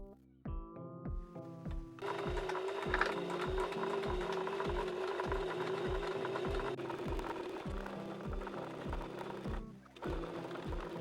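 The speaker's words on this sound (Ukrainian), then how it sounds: "Розпорола обидві штанини, тепер потрібно обметати зріз. Обираю такий обметувальний шов." A sewing machine overcasts the cut edge of trousers, starting with a few slow, evenly spaced needle strokes before speeding into a steady, loud mechanical whir with regular thumping beats.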